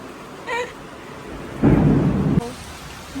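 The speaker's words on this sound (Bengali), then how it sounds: "বৃষ্টি হলো" Rain falls during a storm, heard as a low background patter broken by one loud, close rush of heavy downpour lasting under a second.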